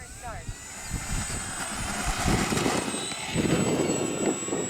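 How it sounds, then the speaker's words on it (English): An FMS VooDoo radio-controlled model airplane flies overhead, its engine a steady whining drone with a high tone, while people talk over it. "It's a noisy plane. Noisy and bouncy."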